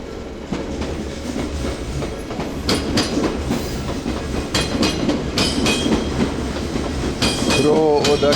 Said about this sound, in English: That was a loud ass train, wasn't it?